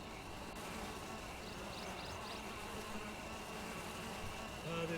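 Steady insect buzzing of bees in the adventure game Zork: Grand Inquisitor, a continuous close drone with a few brief higher chirps over a constant background hum.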